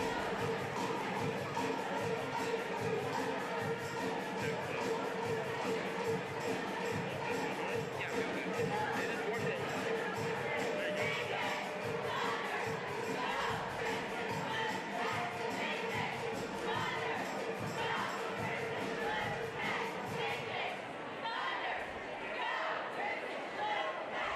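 Cheer squads from both sides perform during a break at a varsity girls basketball game, St. James Academy at Saint Thomas Aquinas, with a steady, loud wash of crowd noise and chatter that thins slightly near the end.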